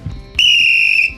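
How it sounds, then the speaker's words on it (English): A referee-style whistle gives one loud, shrill blast lasting under a second, with soft murmurs just before it. "Eddie, do you want to blow the whistle?"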